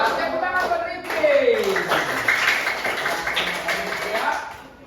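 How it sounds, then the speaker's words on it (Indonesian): Classroom of students clapping for a classmate named Rifki, a short burst of quick hand claps heard close, mixed with children's voices chattering over it. "Ya, tepuk tangan buat Rifki."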